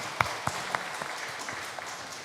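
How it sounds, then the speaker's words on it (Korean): Church congregation at a special evening prayer meeting claps briefly, a few sharp claps standing out over a soft, steady patter in a reverberant hall. "하나님께 영광의 박수 올려드리겠습니다."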